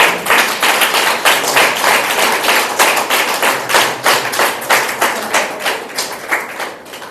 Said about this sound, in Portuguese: Peço mais uma vez salva de palmas à Liga